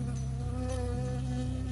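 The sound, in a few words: bee buzzing before a sting, from the video game Firewatch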